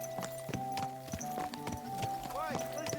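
Horse hooves clip-clop at a steady trot in the medieval role-playing game Kingdom Come: Deliverance 2, close and clear with a brief whinny-like tone, under game music and a voice talking.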